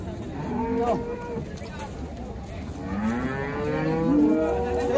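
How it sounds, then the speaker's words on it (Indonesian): A large, long and tall cow mooing close by in a pen, with several drawn-out moos over steady background noise. "Sapi elek, panjang sekali."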